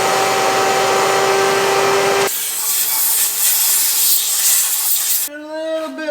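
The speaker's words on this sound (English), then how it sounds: "I'm gonna blow out the little fan and stuff." Compressed air blasts dust out of a skid loader's small fan and housing: a loud, continuous rushing hiss that shifts in tone midway as the nozzle moves, then cuts to a quieter, whining tail at the end.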